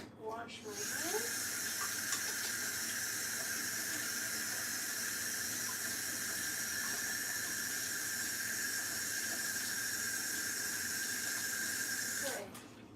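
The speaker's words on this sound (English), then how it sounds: "So I'm going to wash my hands." Hands being washed under a running sink tap in a home kitchen, a steady hiss of flowing water that holds for about twelve seconds, close and fairly even, with faint background sounds and no clear talking.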